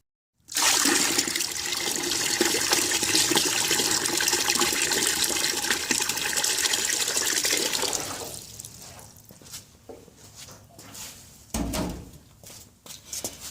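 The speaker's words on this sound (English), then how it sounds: "Let's throw in some bucket of water." A bucket of water gushes and splashes into a test tank for a 1975–1977 Johnson/Evinrude 4 HP outboard motor, loud and steady for about seven seconds, then trailing off into softer trickles and drips.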